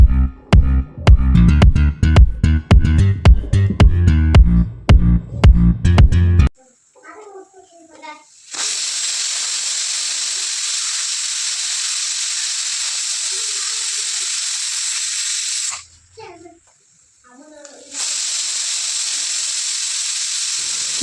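A pressure cooker steaming pulao with dill leaves on a home stove lets out long, loud hissing whistles of jetting steam, two sustained blasts separated by a brief pause, after rhythmic music and a few faint clatters.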